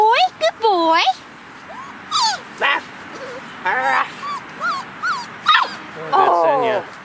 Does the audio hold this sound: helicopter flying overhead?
no